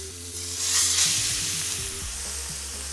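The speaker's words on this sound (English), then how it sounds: "I'm going to take this steak and I'm going to put it on the pan away from me." A steak lands in smoking-hot olive oil in a pan and bursts into a loud, close sizzle that peaks quickly and then settles into a steady hiss with faint low hum beneath.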